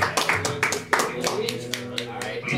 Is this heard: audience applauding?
yes